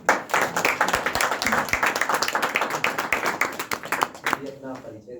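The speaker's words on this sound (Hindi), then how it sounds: "अच्छा नाटक था। तालियां।" A small theatre audience claps briskly and steadily for several seconds after a play, the sharp claps fading out toward the end.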